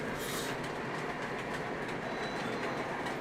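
A model train runs along its track with a dense, continuous rumbling clatter, fairly loud and steady throughout, with no talking.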